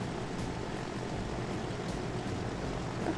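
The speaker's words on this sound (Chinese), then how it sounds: "这辆新飞机。" Aircraft engine drone in the transport simulation game Transport Fever, a steady, dense, faint roar with no speech over it.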